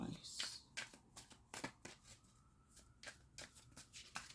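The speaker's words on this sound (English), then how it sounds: "I'm going to pull one more card for advice." Oracle cards are shuffled and drawn by hand in quick, crisp riffling bursts with soft flicks and slides, close to the listener and fairly quiet.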